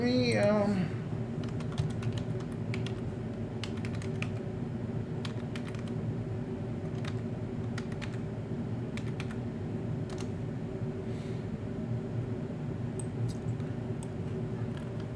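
Steady, close clatter of fingers typing on a computer keyboard, with rapid key clicks running continuously throughout and a brief tone at the start.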